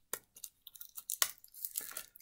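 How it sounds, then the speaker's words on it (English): Plastic wrapper on a deck of board-game cards being torn open, a quick series of crisp rips and crinkles, close and fairly quiet, with no talk. "let's go ahead and open up this deck of cards"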